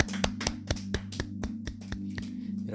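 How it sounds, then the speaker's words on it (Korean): A church congregation at a Korean worship service claps in thanks to God, a steady rhythmic beat of sharp claps about four per second, over a sustained organ-like tone. "우리 하나님께 감사의 박수 올리겠습니다"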